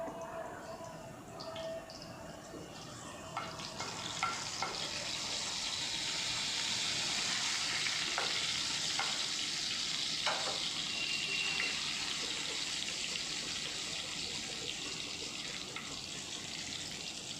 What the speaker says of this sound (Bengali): তো এটাকে 30 সেকেন্ডস মতো জাস্ট একটু ফ্রাই করে নেব